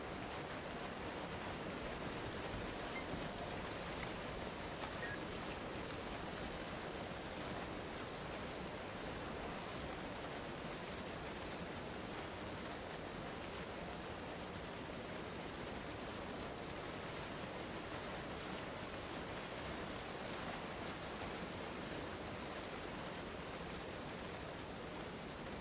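Steady, dense rushing of a waterfall in the video game Guild Wars 2, a constant broadband roar that holds at an even level throughout with no talk over it.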